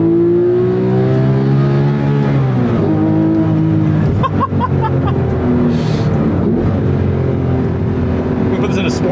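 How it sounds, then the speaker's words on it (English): Porsche 911 997.2 GT3 RS 4.0 in Sport mode, with its intake and exhaust opened up, revs hard and close toward redline, the loud metallic engine note rising, dropping between gear changes and climbing again. "You gotta love that metallic motorsports inspired sound, especially as you reach red line."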